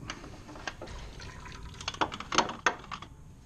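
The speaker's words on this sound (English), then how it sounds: "now it's dumping out the last bit of coolant as the seal is totally broke" Coolant drips and splashes in irregular bursts from a 2007-2013 MINI Cooper R56 engine with a broken water pump seal, growing busier toward the end, close by with a low background hum.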